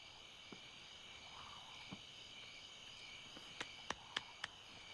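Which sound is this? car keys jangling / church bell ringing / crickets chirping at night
crickets chirping at night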